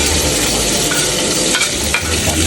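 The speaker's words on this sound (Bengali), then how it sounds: "তেলে ছেড়ে দিব এটা তেলে ছেড়ে দিব মজা মজা রান্না" Pieces of boiled beef spleen frying in hot oil give a loud, continuous sizzle with light scraping as they are moved around the pan.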